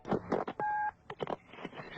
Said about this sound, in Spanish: Entonces sonó el teléfono.